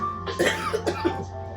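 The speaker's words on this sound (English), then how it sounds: "I have to clear my throat" Someone clears their throat close by in several quick rough bursts over a steady electrical hum.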